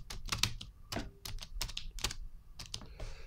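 Fast typing on an iMac keyboard while entering an App Store search, a close, crisp run of uneven key clicks and taps with no talking over it.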